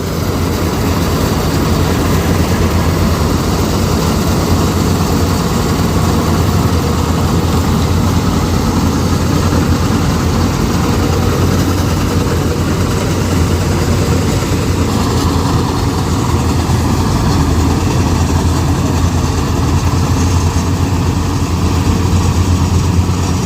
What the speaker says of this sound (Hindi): गाड़ी चालू हो गई और जो फटर फटर की आवाज़ रही से वो भी बंद हो गई।